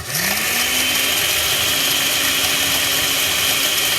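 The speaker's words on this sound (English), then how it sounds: "sorry about the blender, but I want to be able to show it to you" A blender whirs loudly and steadily, spinning up in the first half second and then holding a constant high whine while it grinds dried cranberries into powder, with no talk.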